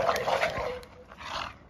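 A dog playing with a ball gives short growls and yips, close and fairly quiet, in bursts over about two seconds.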